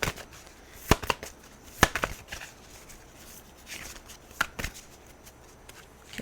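Tarot cards shuffled by hand in a few quick riffling bursts, with soft scattered flicks and taps in between, close and fairly quiet.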